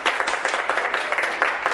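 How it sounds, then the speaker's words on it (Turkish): A studio audience at a Turkish TV entertainment show applauds. The clapping is dense, rapid and steady, moderately loud and close, and lasts under two seconds without a break. "Ne diyorsunuz gelsin mi alkışlar bir görelim bakayım."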